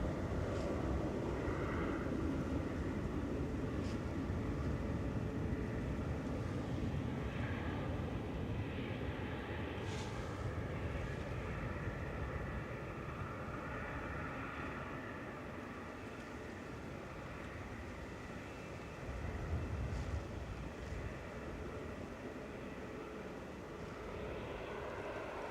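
A Lufthansa Airbus A320 airliner at Manchester Airport sends a steady, moderately distant jet rumble under grey skies, holding fairly even and dipping a little toward the end, with no voices.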